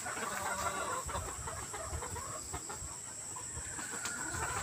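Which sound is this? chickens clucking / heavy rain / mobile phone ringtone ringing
chickens clucking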